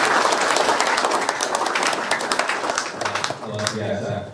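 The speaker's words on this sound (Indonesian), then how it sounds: "Kasih tepuk tangan dulu, tepuk tangan semua" Audience applause at an evening motivational gathering for Paskibra flag-raising youth in Lampung Tengah, a dense wash of clapping that fades slightly before a voice begins speaking near the end.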